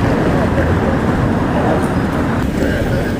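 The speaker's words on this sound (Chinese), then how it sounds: "车流量好繁忙啊" Steady, dense roar of heavy traffic along a busy city street, Jiefang North Road in Tianjin, lined with historic bank buildings; continuous broadband rumble with passing cars and buses, fairly loud throughout.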